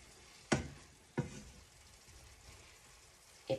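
Mushroom soup in a pot being stirred: a few sharp scraping strokes spaced apart over a faint, low simmer.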